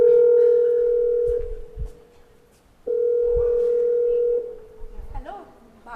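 A telephone dial tone sounds while a call is placed, a steady loud tone that breaks off, returns and stops again, with short handling noises and a brief voice in between.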